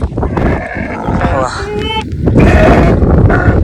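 A pregnant ewe close to lambing bleats in a wet farm setting during heavy rain, with calls up close, rising and falling over steady background noise and voices.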